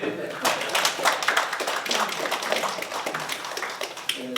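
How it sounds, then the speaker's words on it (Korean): Applause from the audience at a policy forum on military reform: a room of people clapping in a dense, uneven patter that rises and falls without letting up, fairly close and unaccompanied by talk. "박수 한번 다시 쳐주시죠"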